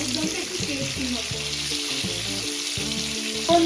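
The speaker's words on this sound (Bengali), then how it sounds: "এখানে ভাজা ভাজা হচ্ছে," Potatoes fry in hot oil for aloo dum with a steady, close sizzle. Bursts of spattering and light stirring sit on top of the sizzle throughout.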